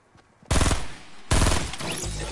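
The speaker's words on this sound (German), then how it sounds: "Ich höre Schüsse." Bursts of rapid automatic gunfire from the video game Fortnite, two loud volleys crackling back to back after a brief quiet start, heard alone without talk.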